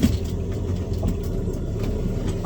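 A vehicle worth about 45,000 rolls around a pond on rough ground, its engine giving a steady, loud, close rumble with no break and no voices.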